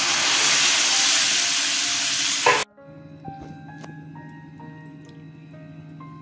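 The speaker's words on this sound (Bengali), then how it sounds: "ডালটা ঢেলে দিচ্ছি।" Pressure-cooked lentils for a vegetarian Ashtami dal are poured into a hot pan with spiced oil and green chilli paste; a loud, hissing sizzle cuts off abruptly into a quiet, faint bubbling simmer.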